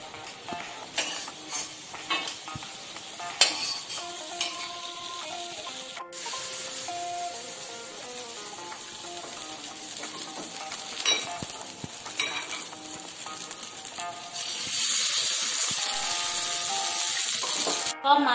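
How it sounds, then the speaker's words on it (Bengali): Fish roe frying in a pan, a soft continuous sizzle with scraping stirs and utensil clinks, the sizzle swelling louder and brighter toward the end, with speech heard at times. "সব মাছের ডিম ভাজা হয়ে গেছে"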